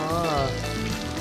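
Chicken skin frying in a pan for teriyaki gives a steady, close, dense sizzle that holds throughout the short stretch without pause.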